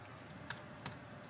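Soft keystrokes on a computer keyboard, with a few distinct taps over a quiet hum. Nobody speaks.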